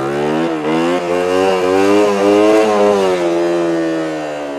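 A motorcycle revved hard in first gear during wheelie practice, loud and close, the engine note climbing and falling in quick surges with a buzzing, rasping tone and no talk.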